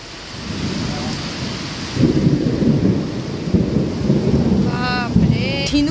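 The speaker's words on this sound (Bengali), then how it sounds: "প্রচন্ড বৃষ্টি হচ্ছে আর মারাত্মক বিদ্যুৎ চমকাচ্ছে।" Heavy rain pours down steadily during a thunderstorm, seen from a home, with rolling thunder rumbling through. A faint voice and a brief chirp appear near the end.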